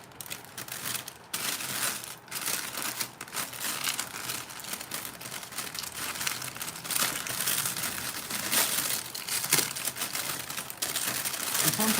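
Ribbon being fluffed and crinkled for a gift basket, a steady close rustling and crackling that runs nearly the whole time with brief pauses.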